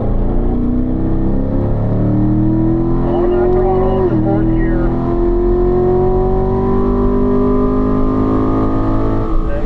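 A Corvette accelerates on a race track at a performance driving school, the loud engine note climbing steadily in pitch after a brief dip, close and continuous throughout.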